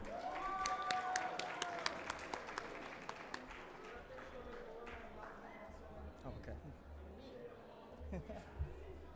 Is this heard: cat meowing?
no